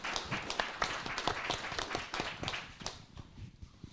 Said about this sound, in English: please round of applause for our audience,